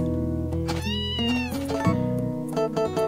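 A cat meows several times up close in drawn-out, wavering cries, fairly loud against a quiet indoor background.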